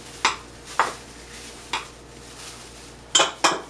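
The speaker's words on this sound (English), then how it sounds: "Give it another stir." A spoon scrapes and clinks against a bowl while muffin batter is stirred with granulated sugar, giving five short separate strokes with quiet pauses between them.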